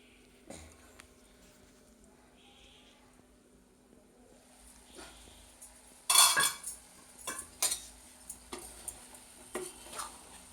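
A spoon scrapes and clinks against a pan of ridge gourd fry and a plate lid is set on top, a series of sharp metallic knocks and stirs after a quiet start.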